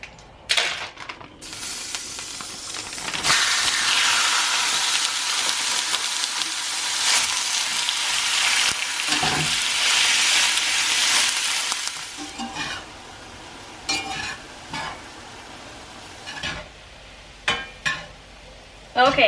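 Ground beef frying in a pan gives a loud, steady sizzle and hiss for about ten seconds with occasional stirring, then fades to quieter kitchen clatter.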